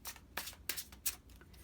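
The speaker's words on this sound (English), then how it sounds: "I'm giving them a good shuffle right now" Tarot cards being shuffled by hand, four or five quick crisp riffling bursts separated by short pauses, close and fairly quiet.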